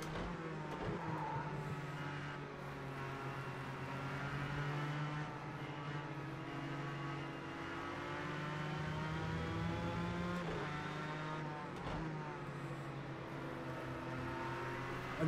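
A race car engine in Project CARS 2 drones steadily at high revs throughout, its harmonics rising and falling with gear changes and throttle while other cars run close by, with no talk over it.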